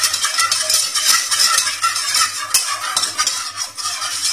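Flour being whisked into melted butter in a pan on the stove, a steady scraping and stirring rattle with a soft bubbling sizzle, close and continuous with no talking.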